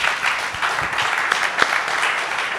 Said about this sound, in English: I'm going to pause long enough for us to all applaud you right now